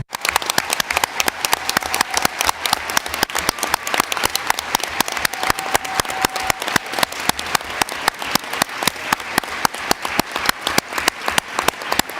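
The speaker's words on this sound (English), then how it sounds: "Let's try applause and eventually the package." Loud, sustained applause from a large crowd at the CBD COP15 biodiversity conference, dense steady clapping throughout with no pauses.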